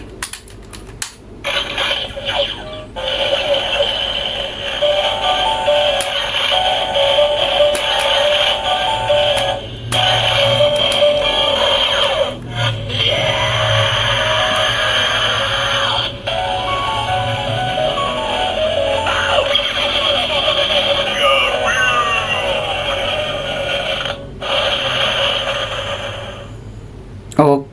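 DX Tega June transformation toy from No. 1 Sentai Gozyuger playing its electronic transformation sequence: a continuous, loud, busy stream of music and effects through a small speaker, held close for nearly half a minute.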